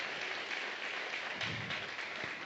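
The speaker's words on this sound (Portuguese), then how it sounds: "Que a gente dê uma salva de palmas para o Senhor Jesus" A church congregation applauds together during a Sunday service, a steady dense wash of clapping held at an even level throughout.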